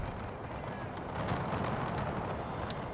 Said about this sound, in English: the enemy has started firing here